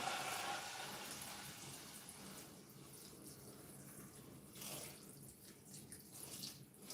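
Water poured into a pot of cooking beans with onion and habanero pepper, a faint steady splashing and trickle that tapers off, quiet throughout.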